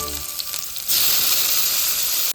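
Onion and tomato fry in hot oil with ginger-garlic paste, green chilli and coriander for a Goan cashew bhaji. A mild sizzle bursts into a loud, steady hiss that holds close and strong until an abrupt cutoff.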